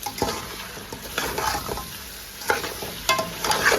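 Spice masala stir-fried in a pan for white mutton pulao, with irregular scraping strokes of a spoon over a soft sizzle, close and fairly loud, without speech.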